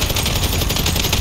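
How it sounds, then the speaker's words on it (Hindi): Rapid, continuous gunfire from the video game GTA V, loud and close, with steady bursts of shots following one another without a break. "कितनी ज़्यादा गोलियाँ बरसानी पड़ रही है, फिर भी इसे कुछ नहीं हो रहा"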